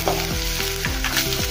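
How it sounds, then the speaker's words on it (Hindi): Ginger, garlic and asafoetida frying in hot oil for a brinjal, potato and zucchini mixed vegetable, giving a steady close sizzle with stirring scrapes and clinks against the pan throughout. "तेल में अच्छे से हो गया है अदरक लहसुन।"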